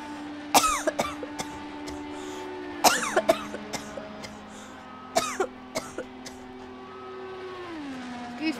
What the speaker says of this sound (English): that was my first coughing fit of the stream